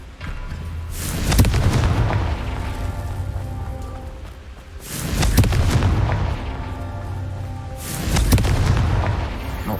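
Three heavy, booming Confringo fire-spell explosions from the Hogwarts Legacy video game, spaced a few seconds apart, each a loud deep blast with a rumbling tail.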